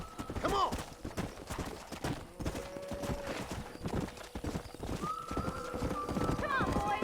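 Hooves clip-clop rapidly as a horse runs in the video game Red Dead Redemption, with a couple of neighs cutting through, mixed with game-style background sounds.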